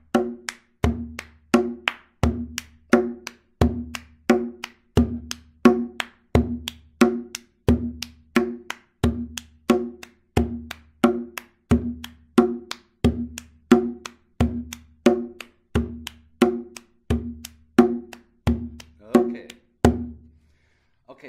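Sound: drum rhythm: bass drum stroke, clap, rim

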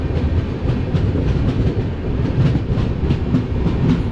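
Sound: high-capacity parcel train carrying cars passing

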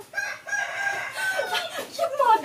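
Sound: hen clucking

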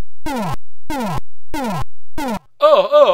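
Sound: Charles Bronson character attacked, Death Wish 3 C64 video game

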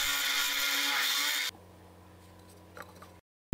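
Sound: drilling a hole for a shaft

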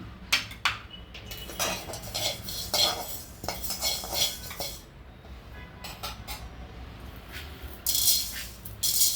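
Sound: roasting fenugreek and mustard seeds in a pan

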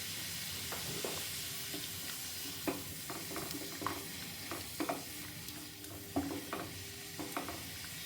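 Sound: salted water coming to a boil while blanching cabbage leaves

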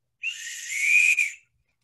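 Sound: emergency whistle being blown

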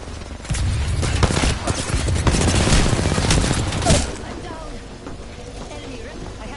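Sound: gunfire in the Apex Legends video game

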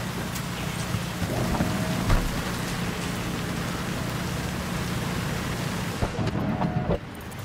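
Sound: rain and thunder in a video game

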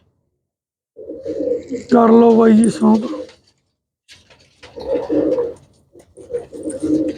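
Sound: pigeons cooing

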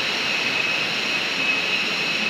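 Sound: tiered waterfall

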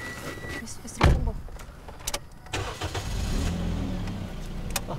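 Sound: car engine being cranked with starter

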